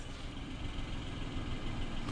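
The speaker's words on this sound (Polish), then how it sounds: "trzycylindrowa jednostka w tym samochodzie naprawdę pracuje kulturalnie" The 1.2-litre three-cylinder engine of a 2021 Mitsubishi Space Star CVT idles quietly and steadily, a soft low rumble with an even, smooth hum and no voices.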